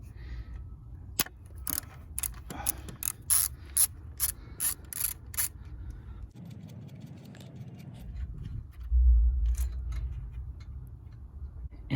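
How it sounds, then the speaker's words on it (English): Ratchet driving a 10 mm socket on an alternator nut of a 1989–98 Land Rover Discovery, rapid clicking pawl bursts in several runs, close and clear, with a low engine-bay hum underneath. "for that nut right in the middle, which is holding the other wire, the last one is a 10 millimeter socket."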